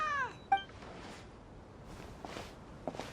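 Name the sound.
cat meowing in video game Genshin Impact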